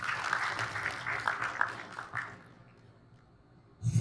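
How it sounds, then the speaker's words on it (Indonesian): Audience applause for a guest speaker at an Indonesian public talk, a dense patter of clapping for about two seconds that thins and fades into near silence. "Tepuk tangan untuk Pak Yusril."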